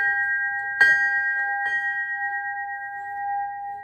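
A single bell is struck once and then lightly again, leaving a clear, sustained ringing tone that hangs and slowly fades, with no voices present.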